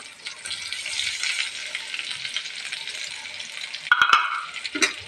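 Pancit ingredients sautéing in a hot pan, a close, busy sizzle and crackle of frying with stirring and a few clinks of a utensil against the pan near the end.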